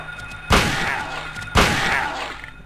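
Two loud gunshots from a powerful weapon in the Silent Hill video game ring out about a second apart, each with a sharp attack and a long decaying tail over a quiet hum.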